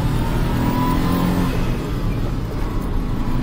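A small turbo engine in a Mitsubishi Bravo microvan drones loudly from inside the vehicle as it accelerates, a steady revving hum with road noise underneath.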